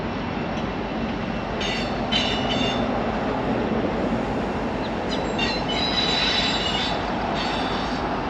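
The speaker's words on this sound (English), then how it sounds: "Trains are still going over it." A train rumbles continuously across a long stone arch bridge over the Susquehanna with a low roar, and bursts of high metallic wheel squeal come and go.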